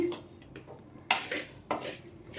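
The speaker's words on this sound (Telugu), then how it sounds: "మొత్తం కూడా రైస్కి పట్టేటట్టు కలిపేసుకుందాం" A spoon scrapes and clinks against a pan while fried potato pieces are mixed into rice, a few separate metallic knocks and scrapes, close but fairly quiet, with no talking.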